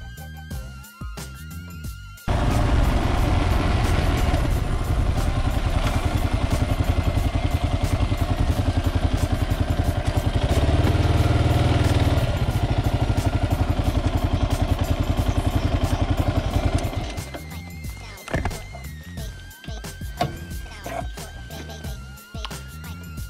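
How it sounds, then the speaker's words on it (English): A 2018 Kawasaki KLR650 motorcycle engine starts up and runs with a loud, close, steady rumble for about fifteen seconds, then cuts back to a quieter, uneven idle with some clatter near the end. "There she is, the mighty KLR. It sound right, boy."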